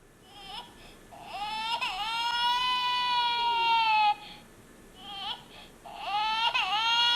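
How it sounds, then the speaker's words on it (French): A plush toy teddy bear doll gives an electronic crying sound, with long wailing cries separated by short breaths, fairly loud and close against a soft background hiss. "Oh bah il pleure encore."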